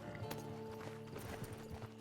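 Horse hooves clip-clopping in the video game Red Dead Redemption 2, a steady run of close hoof beats over a continuous game soundscape.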